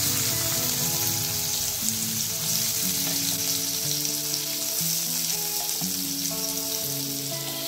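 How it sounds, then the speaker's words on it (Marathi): Finely chopped onion fries with garlic in hot oil, a dense continuous crackling sizzle that holds steady throughout with soft music beneath and no talk. "आता कांदा लालसर होईपर्यंत भाजून घेऊया."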